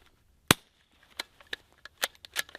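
A single sharp, muffled shot from a suppressed .22 bolt-action rifle firing Aguila 40-grain subsonic rounds, followed by a series of quieter metallic clicks and clacks from the bolt being worked.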